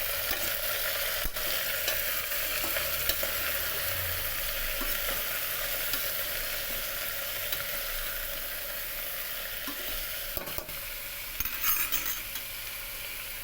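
Bottle gourd and chana dal being stirred in a hot pan, a steady frying sizzle with soft scraping of the spoon throughout and a few louder clinks near the end, no talking.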